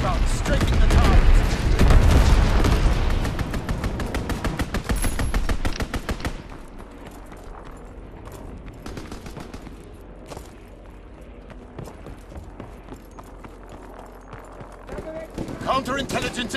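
Gunfire and a fighter plane strafing run in Call of Duty WWII: a loud dense volley of rapid shots at first, then sparser scattered gunfire in the background, with a voice talking over it.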